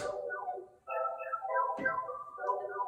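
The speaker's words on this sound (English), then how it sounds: "I ended up coming across this cool synth sample." A bright synth line plays short melodic notes with pauses between phrases, clean and upfront with no other instruments.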